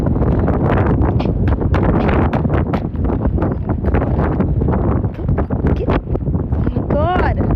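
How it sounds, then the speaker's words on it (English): Strong outdoor wind buffets the microphone, a loud, constant broadband roar with rapid gusty flutters; near the end a voice briefly speaks over it. "Oh my God, the wind."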